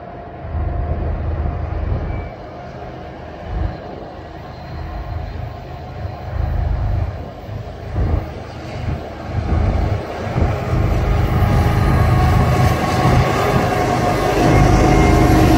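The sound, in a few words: CSX freight train, maybe ethanol train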